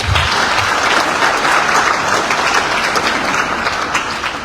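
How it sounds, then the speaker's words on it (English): Sustained applause from an audience at the official launch event of an Executive Mansion communication internship program, steady clapping filling the whole span at close range with no speech over it. "let's give another round of applause"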